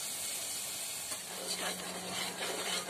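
Tamarind leaves fry in a pan for mutton curry, giving a faint, steady hiss and sizzle throughout with soft bubbling bursts, without anyone talking.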